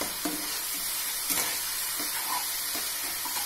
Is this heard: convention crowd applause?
no